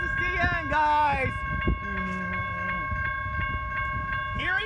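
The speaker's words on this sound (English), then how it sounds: "Here comes the Canadian SD70ACe." A Canadian National freight train led by an SD70ACe locomotive approaches a cantilever level crossing in Trenton, Michigan, with crossing bells ringing steadily and rumbling rail noise, while people talk excitedly nearby.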